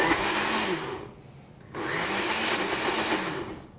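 Blender crushing ice cubes for a sweet lychee coconut ice dessert, a loud grinding whir that dips briefly in the middle, then resumes steadily up close.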